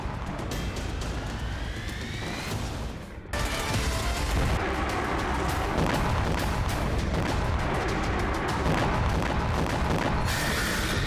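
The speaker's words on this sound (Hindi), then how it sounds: "एक के बाद एक कई धमाके किए।" Dense rumbling blasts and crackling bursts from rockets fired by Hezbollah from Lebanon into northern Israel, one after another in a continuous loud barrage with no speech.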